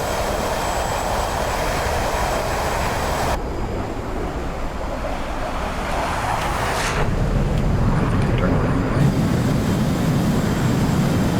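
An aircraft rolling for takeoff gives a steady, loud engine drone that shifts in tone partway through and builds in low rumble toward the end, with no voices over it.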